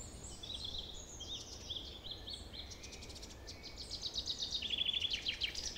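Birds sing high in the tree canopy near Powerscourt Waterfall on a midsummer day. Thin, high chirps and trills repeat faintly over a steady hiss of water or wind, and they grow busier toward the end.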